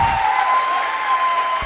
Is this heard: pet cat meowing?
no